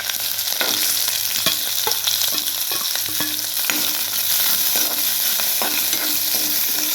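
Green chilies fry in hot oil with crushed garlic, mustard seeds and cumin. The pan gives a steady loud sizzle broken by frequent small pops and spatula clicks as it is stirred close by, with no voices.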